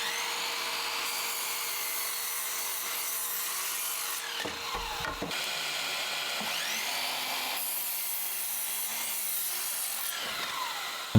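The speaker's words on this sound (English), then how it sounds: "cut to length using the 18-volt trend miter saw" An 18-volt Trend cordless miter saw cuts pine to length, giving a loud, steady whining buzz that runs nearly the whole time, with a brief dip midway.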